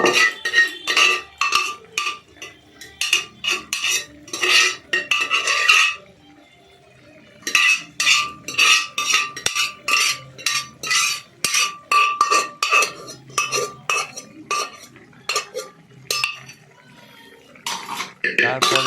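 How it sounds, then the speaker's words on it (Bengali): A spoon clinks and scrapes steadily against a metal pot while chana dal, egg and chicken tarka is stirred, with a short pause after the first few seconds before the loud, rhythmic stirring resumes close by. "এদিকে নাড়াচাড়া করলাম, ভালো করে নাড়াচাড়া করতে হবে।"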